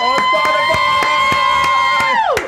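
A studio audience at a podcast taping whoops and cheers loudly, with sustained voices held over steady, evenly spaced claps.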